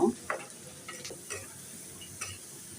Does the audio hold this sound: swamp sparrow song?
no